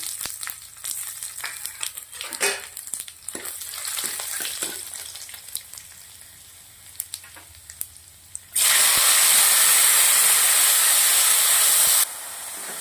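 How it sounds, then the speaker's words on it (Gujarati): Tomatoes frying in hot oil for a Maharashtrian veg Maratha curry, with light sizzling and occasional clinks for most of the stretch, then a loud, steady, close hiss of steam near the end before it drops back. "ટામેટાને થોડા શેકી લેવાના છે આપણે તેલના અંદર"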